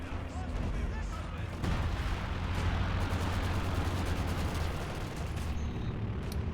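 Machine-gun fire in a tactical multiplayer video game match rattles in rapid bursts over a dense, rumbling battle din, with a voice faintly present in the background.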